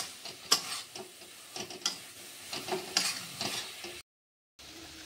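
Spices with green chilli paste frying and being stirred in a pan for chicken kosha, giving repeated scraping stir strokes over a low sizzle, close and fairly quiet, with a brief silent gap near the end.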